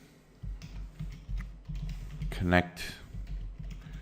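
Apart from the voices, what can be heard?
typing on a computer keyboard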